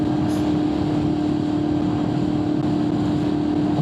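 Steady motorcycle engine drone from a Honda VFR800fi ridden on the road, with wind rush and a constant hum holding evenly throughout at close range, with no talk.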